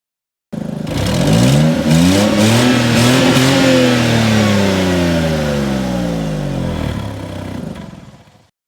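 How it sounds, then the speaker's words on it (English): A car engine revs up and holds a rising, sustained vroom, loud and close, then fades out at the end, with no voices over it. "What sound does a car engine make?"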